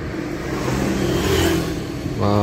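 A car driving at night, its engine giving a steady hum and whir from inside the cabin with a slight swell in revs, then a louder tonal drone near the end.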